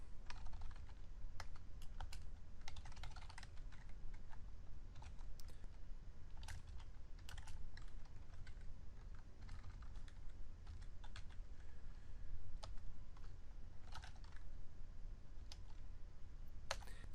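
Steady typing on a computer keyboard while SQL code is entered, with irregular bursts of close, crisp key clicks over a low background hum.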